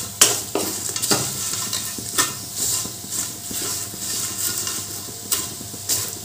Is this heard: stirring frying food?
yes